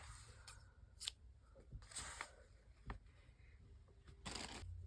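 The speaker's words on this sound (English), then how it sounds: "using my scissors, I'm going to cut the yarn" Scissors snip through crochet yarn in a quiet room, a few short, soft crisp cuts spaced out over several seconds with light handling rustle between them.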